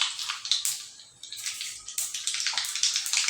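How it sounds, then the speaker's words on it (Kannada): Mustard seeds splutter and crackle steadily in hot oil in a heated kadai, a dense, hissing fizz of rapid pops that rises and falls without pause, close and moderately loud, with no talk. "ಇವಾಗ ನಾನು ಇದಕ್ಕೆ ಸಾಸಿವೆ ಹಾಕ್ತೀನಿ 1 ಚಮಚದಷ್ಟು."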